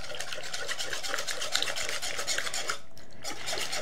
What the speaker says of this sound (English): we're just going to whisk all the wet ingredients together to start with